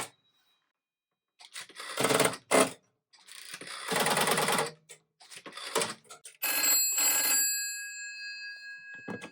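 An old telephone, an SA4252, rings after being called from another phone through a converter box, with several loud bell bursts separated by short pauses.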